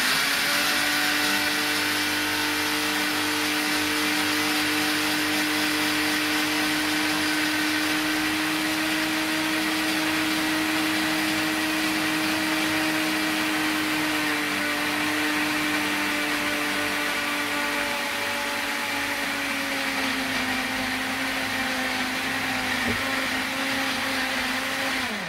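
A blender whirs loudly and continuously as it chops wild garlic leaves with oil, its motor whine holding steady and then dipping slightly in pitch toward the end, close and alone with no talking.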